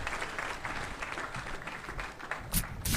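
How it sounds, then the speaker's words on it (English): Audience applause at the launch of a National Social Security Fund housing project, steady clapping from a crowd filling the room for a few seconds at moderate volume, with a voice briefly heard over it. "Let's give him a big round of applause."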